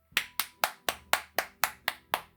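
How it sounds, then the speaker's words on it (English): About ten sharp, evenly spaced hand claps from a single pair of hands, close and crisp, with no voices. "let's have a big round of applause for this painting, everyone"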